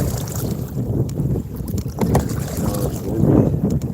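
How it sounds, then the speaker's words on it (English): Wind gusting across a lake buffets a kayak on the open water, a steady low roar with rumbling microphone buffeting that swells and eases over a few seconds, no talk. "Oh, it's windy."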